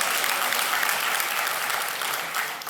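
A large audience claps at an autumn university convocation ceremony. The dense, continuous applause fills the hall, strong at first and easing slightly toward the end.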